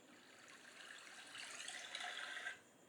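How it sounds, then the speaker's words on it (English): Stream water pours into something with a soft, continuous rushing that swells slightly, then drops away abruptly near the end. The sound is quiet and alone. "it seems like it's stream water that pouring into something"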